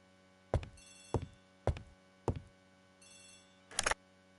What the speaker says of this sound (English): The telephone is ringing.